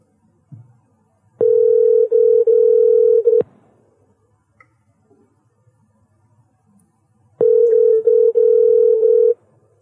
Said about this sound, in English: We got the ringing going on.